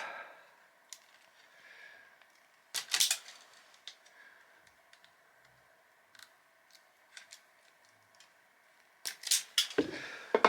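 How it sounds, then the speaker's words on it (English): Thin electrical wires being stripped of insulation during a fluorescent-to-LED tube conversion; a few sharp, brief snips and clicks, loudest near the start and end, with quiet gaps and a faint steady hum between. "Strip them off."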